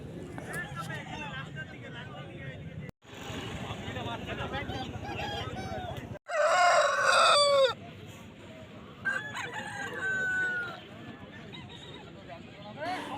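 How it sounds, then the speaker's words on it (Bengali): Black fighter roosters of about 4 kg are at a Makar Sankranti cockfight market in Kharagpur. Close by, one rooster crows loudly in a drawn-out call, with clucking around it and someone talking over much of the scene. "এই আরেকটি ব্ল্যাক ফাইটার মোরগ দেখতে পাচ্ছ তোমরা।"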